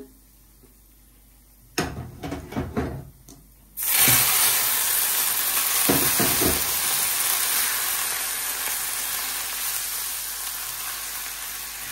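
After a few clatters, a loud burst of sizzling as chopped radish hits hot oil, then a steady frying hiss with light stirring knocks.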